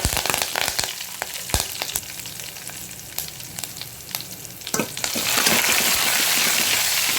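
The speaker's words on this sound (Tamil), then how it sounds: "கருவேப்பிலை போட்டு நல்லா வதக்கிக்கிடலாம்" Curry leaves drop into hot oil for a tempering while making plantain rasam, with scattered pops and stirring clicks before a loud, steady burst of spitting sizzle takes over near the end.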